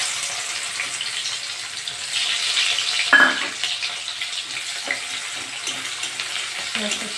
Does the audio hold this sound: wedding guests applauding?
no